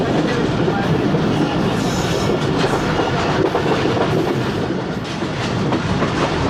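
11 Up Hazara Express train passing, heard from aboard a moving train with a steady loud rumble and rhythmic clickety-clack of wheels over rail joints throughout.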